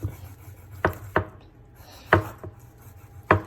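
Chicken legs being chopped one-handed with a knife for Jamaican curry chicken: five sharp, close thwacks on a board, spaced irregularly with quiet scraping between them.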